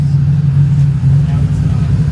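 A Honda J37 V6 in a drag-race EG Civic idles on all six cylinders, giving a steady low hum and rumble that stays constant throughout.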